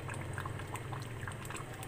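A paste of fried onion, nutmeg, mace and green cardamom goes into a pot of chicken korma, with soft, steady bubbling and gentle splashing up close for about two seconds.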